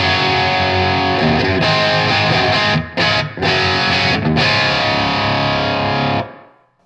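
An electric guitar plays on channel 2 of a Blackstar HT Stage 100 MKIII amp, giving a loud, heavily distorted rock tone. Chords ring with a couple of brief choppy stops before a final chord fades out.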